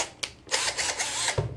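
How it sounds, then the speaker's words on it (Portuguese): A WAP 21V cordless impact drill driver backs out a screw in a few short whirring bursts, each starting and stopping, with a small knock near the end. "Vamos fazer um teste ali desparafusando um parafuso?"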